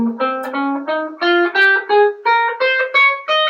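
Guitar plays a minor scale in a lead position, one clear note after another at a steady, moderate pace, each picked note ringing briefly and stepping upward, with no voices.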